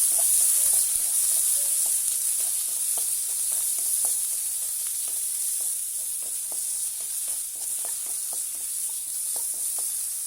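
Chopped tomato frying with chickpeas and onion in a pan, a steady bright sizzle running throughout while a utensil stirs in repeated soft scraping taps, close and fairly loud, with no talking.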